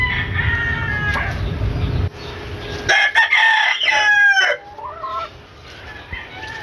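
An Ormoc gold gamefowl rooster from a backyard flock crows loudly and close by, with a full drawn-out call followed by shorter clucking notes, against a low background hum.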